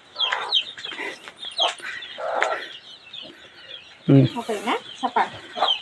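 Chickens cluck and squawk intermittently nearby in a cornfield, with short bursts of fowl calls mixed among brief spoken voices.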